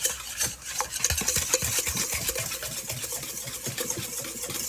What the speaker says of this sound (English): Now mix the ingredients together until combined.